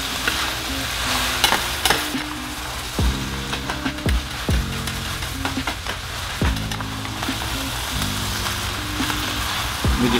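Fried rice is stirred and folded in a hot pan, with a spatula scraping and knocking in irregular strokes over a constant close sizzle and no talking.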